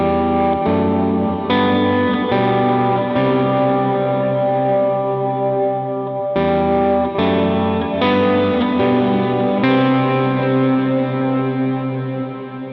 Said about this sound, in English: With all the effects, that part will sound like this.